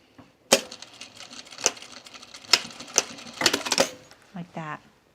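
A sewing machine puts a small tack stitch into the seam allowance of a Mercer top, giving close, uneven bursts of mechanical clatter and clicks with brief pauses between them, ending in a short low rattle.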